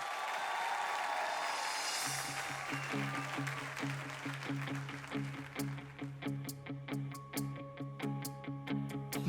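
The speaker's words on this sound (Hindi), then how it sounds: "एक बार जोरदार तालियां हो जाए यार।" A television talent show audience claps for about two seconds, then rhythmic music with steady plucked beats takes over and continues.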